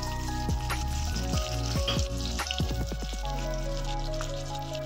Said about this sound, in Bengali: এখানে পেঁয়াজটা ভেজে নিচ্ছি।